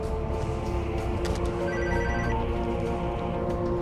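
A telephone rings continuously, a steady trilling bell tone sustained throughout with a dense low hum underneath.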